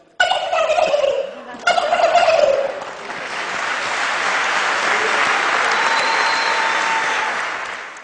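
A man imitates the gobble of a male turkey with his voice, a loud, rapid warbling burst repeated twice, followed by a sustained noisy wash like applause or a crowd.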